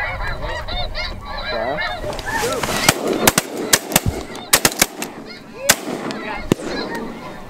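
Shotgun blasts ring out during a spring snow goose hunt in the Dakotas, about a dozen sharp, loud reports in irregular bursts amid a constant chorus of honking geese, with hunters talking at the start.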